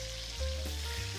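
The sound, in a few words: pork sizzling as it is added to the pan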